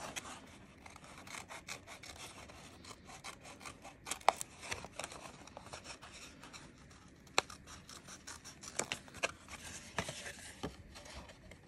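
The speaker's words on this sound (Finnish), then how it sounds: "Näähän tietenkin joutaa täältä sitten myöskin leikata pois." Scissors snip away loose ends of yarn while finishing a homemade knitting gauge, a run of close, dry cuts and rubbing scrapes with sharper snips standing out, steady and fairly quiet with no one talking.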